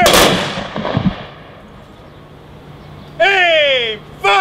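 A loud, sharp rifle volley cracks out once at a military graveside service at Riverside National Cemetery, echoing and fading, followed by a bugle-like tone rising near the end.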